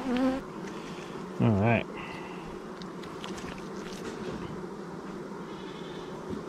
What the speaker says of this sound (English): It's a very calm box of bees